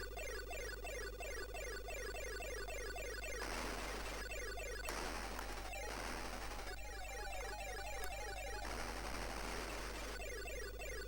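Rapid gunfire rattles continuously in the retro Coleco game Bosconian, broken by several bursts of noisy blasts and crashes, dense and loud throughout with no talking.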